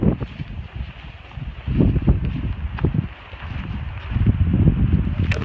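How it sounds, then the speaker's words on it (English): Wind gusts rumble and buffet against the microphone outdoors in the Wind River mountains, loud irregular bursts with a faint rustle behind them. "It's windy here."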